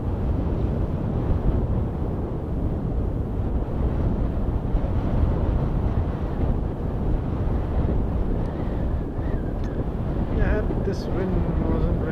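Wind buffets the microphone outdoors at Edmonton International Airport, a loud, continuous low rumble that fills the whole stretch, with faint distant sounds near the end.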